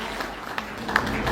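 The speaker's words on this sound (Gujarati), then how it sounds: "સાગરભાઈ માટે પણ જોરદાર તાળીઓ" An audience applauds at a political rally in Rajkot, with a brief, dense patter of many hands clapping at moderate distance.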